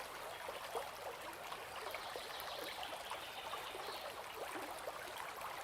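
A gentle brook flows in a quiet outdoor setting, a soft continuous trickle and babble of water that stays faint and even throughout, with no one speaking.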